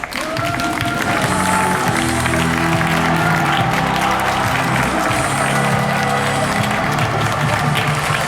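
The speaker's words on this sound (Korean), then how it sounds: "신랑 보는 입장할 때 여러분 뜨거운 박수 함께 부탁드리겠습니다." Wedding guests break into loud, sustained applause as the groom enters the hall, the dense clapping blending with crowd noise and a murmur of voices.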